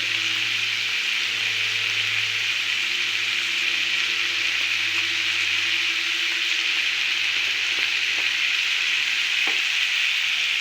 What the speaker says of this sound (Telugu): ఇలా బాగా మిక్స్ చేసుకుని మూత పెట్టేసుకుందాం